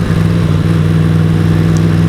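Yamaha MT-10 SP motorcycle engine running at low revs, just over 2000 RPM, with a steady, smooth, continuous drone at constant level and no talk.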